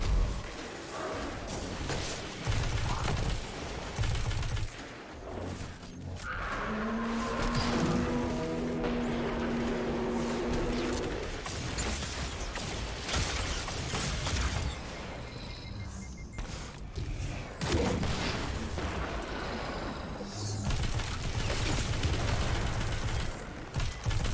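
Gunfire, grenade blasts and mechanical weapon clatter fill a Destiny 2 lost sector fight, with dense bursts and rumbling explosions coming and going and a brief tonal drone partway through.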